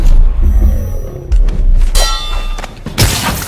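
Metallic sword clangs from melee combat in the stealth-action video game Dishonored, several sharp ringing impacts with thuds and low rumbles between them, loud and close, with no talking.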